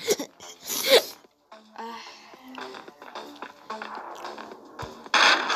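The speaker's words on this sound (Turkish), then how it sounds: "hapşıran geldiler" Enemy characters in a shooting video game let out two loud, sharp sneezes, one near the start and one at the end, with chiming game tones and effects in between.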